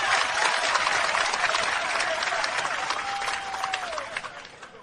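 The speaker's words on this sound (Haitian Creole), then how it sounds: "Manon gros applaudissement pour l'équipe ça." An audience at a church gathering applauds the team with vigorous, dense clapping that holds for several seconds. The sound then thins and fades toward the close, with a thin whistle-like tone drifting through the middle.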